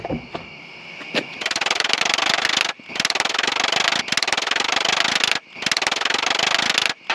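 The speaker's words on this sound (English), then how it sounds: "do some decent chip hammer work here." A chipping hammer knocks slag off a stick weld in rapid metallic chipping, long fast bursts with short pauses between, close and harsh, almost like a pneumatic tool.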